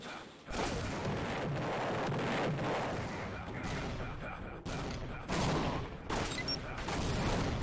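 Grenade explosions in the Tribes video game during a competitive match, a rapid series of loud booms and blasts over continuous battle noise.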